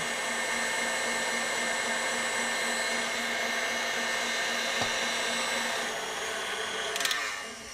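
A stand mixer fitted with a whisk beats cake batter with vanilla and dark rum, a continuous loud motor whir that holds steady and dips slightly near the end, with a small clatter at the close.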